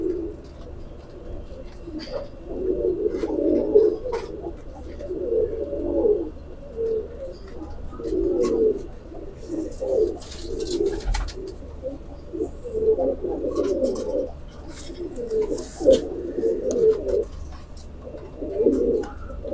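Rampuri teddy pigeons, a male and female pair, coo in low throaty bursts again and again, close and fairly loud, with a few faint chirps and clicks in between and no talk.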